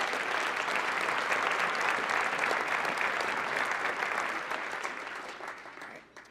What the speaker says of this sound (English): Please give all of our candidates a round of applause.